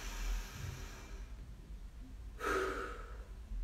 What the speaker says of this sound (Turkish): Derin bir nefes aldım.